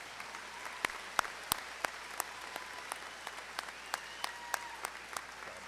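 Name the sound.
graduation audience applause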